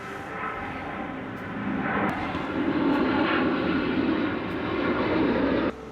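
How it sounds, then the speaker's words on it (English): A propeller or jet airplane passing overhead, a steady broad engine roar that swells toward the middle and holds loud before cutting away near the end, with no talking. "It's about every 1 minute, 30 seconds, a fresh plane comes overhead."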